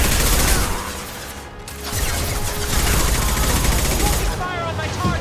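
Dense, continuous gunfire in a Mass Effect 2 firefight: loud, sustained volleys of shots with crashes and a brief lull midway. A voice speaks over the din.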